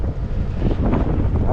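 Wind buffeting the microphone outdoors, a loud continuous low rumble and roar with no pauses and no talking.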